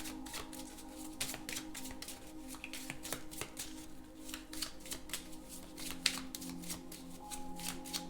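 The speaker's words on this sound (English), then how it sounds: "I'm gonna pull a card from the Steampunk Keeper deck" Tarot deck of Steampunk Keeper cards being shuffled up close, a soft run of rapid riffling and slapping card sounds in irregular bursts over a faint steady background hum, no talking.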